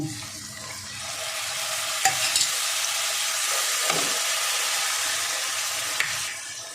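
Masala spices frying with a splash of water in a pan, a steady broad hiss under stirring, with a few sharp scrapes of the spoon against the pan, continuous and close.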